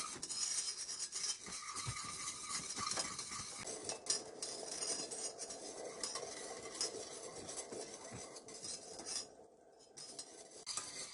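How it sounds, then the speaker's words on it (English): Peach cobbler filling stirred in a pot over medium heat on a stove, a steady scraping and rasping of a utensil against the pot bottom that continues throughout, with faint sizzling underneath. "Now we're going to stir this on medium heat until it boils and then thickens"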